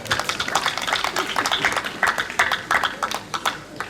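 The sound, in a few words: hospital staff applauding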